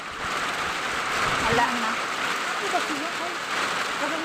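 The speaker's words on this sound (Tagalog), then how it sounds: "naabutan sila papa ng ulan" Steady rain falls in a broadband hiss throughout, evenly loud and close, with a few voices talking briefly over it.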